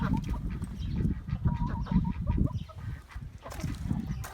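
Ducks and chickens on a farm in snowy, rainy weather, with close, busy quacking and clucking that goes on continuously.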